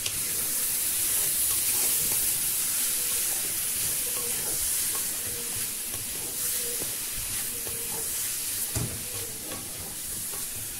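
Yellow pumpkin stir-fry sizzles in a frying pan with grated coconut and a little sugar as it is stirred, giving a steady hiss with scattered scraping and clinking from the spoon, close and continuous, with no talking.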